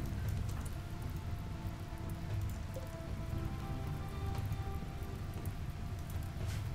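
Steady hiss of rain falling on surfaces in Rimworld, a dense continuous patter with no pauses, fairly quiet and with no voices over it.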